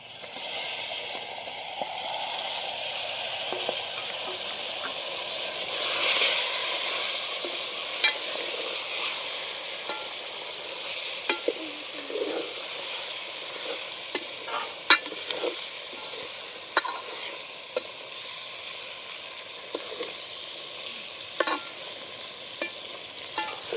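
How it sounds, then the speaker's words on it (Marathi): Mutton pieces fry in freshly fried masala with a steady low sizzle, punctuated by repeated scraping and tapping of a spoon as the meat is stirred, close and continuous for over twenty seconds without speech. "चांगलं मसाला तळून घेतलं आता त्याच्यात मटण टाकून घेतली"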